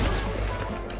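Loud gunshot blast in Fortnite, a dense burst of gunfire noise filling the whole second, close and heavy with a booming low end.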